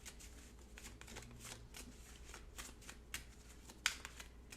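A deck of tarot cards is shuffled close and quietly, a continuous soft riffling with a few sharper card snaps near the end.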